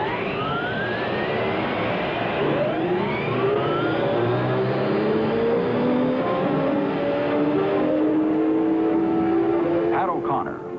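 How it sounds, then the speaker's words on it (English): Many race car engines start up and rev together on the grid at the 1957 Indianapolis 500, a loud, continuous roar with rising and falling engine tones throughout, mixed with crowd and announcer-style voices. "Gentlemen, start your engines."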